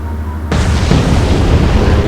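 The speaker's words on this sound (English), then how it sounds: "Here comes our torpedo." A torpedo detonates against the U-boat U-153 in the Atlantic Fleet naval warfare game, bursting in as one sudden loud boom that rolls on into a dense, sustained roar with no voices over it.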